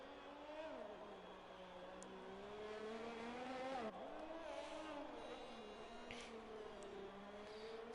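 A race car engine in a sim racing game screams steadily through a hot lap at high revs, pitch rising and dipping through gear changes and corners, with a commentator talking over it.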